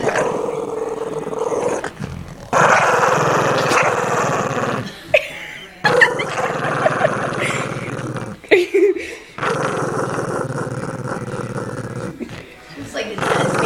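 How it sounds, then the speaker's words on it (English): A dog growls and snarls almost continuously up close, with a few sharp barks breaking through, while people talk over it. "She just barks."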